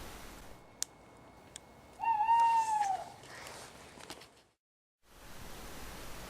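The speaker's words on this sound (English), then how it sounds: "We saw this tawny owl" A tawny owl gives a single clear, wavering hoot near the middle against a steady outdoor hiss, with a couple of faint clicks before it and a brief drop to silence after.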